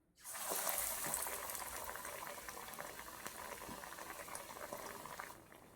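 Egg and potato chops dropped into hot oil in an iron wok burst into a loud, steady, frothy sizzle that starts abruptly and fills the whole stretch before easing at the end; no talking.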